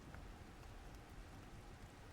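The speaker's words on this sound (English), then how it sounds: "The rain continues to fall." Rain falls steadily over a city street in a continuous faint hiss, with no other sounds.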